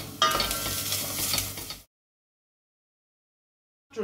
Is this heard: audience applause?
no